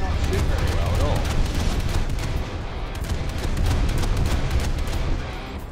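Gunfire from a Soviet Poti-class anti-submarine corvette (MPK Project 204) in a naval video game: a rapid, continuous stream of loud cannon bursts over a rumbling low background, with a brief lull midway.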